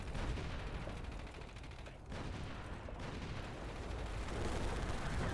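Battle gunfire in the World War II strategy game Company of Heroes: a continuous rattling barrage of rifle and machine-gun shots with heavier thuds mixed in, fairly faint and steady, briefly dipping before resuming.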